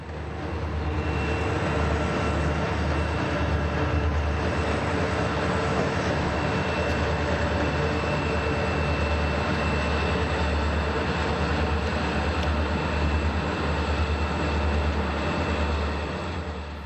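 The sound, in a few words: Conrail train with two pushing SD40-2 locomotives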